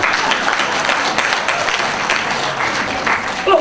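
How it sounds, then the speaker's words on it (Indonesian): Congregation clapping during a church sermon on the Book of Habakkuk, a loud sustained burst of hand claps with a faint voice at the very end. "Tepuk tangan."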